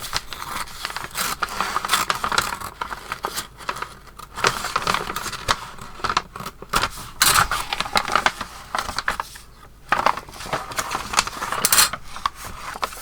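Scissors cut through brown wrapping paper along a join, a close, continuous run of crisp snipping and crinkling paper noises with brief pauses between strokes.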